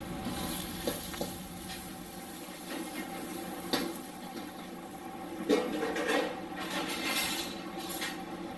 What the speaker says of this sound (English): Throw some scallions in so they just sizzle a bit.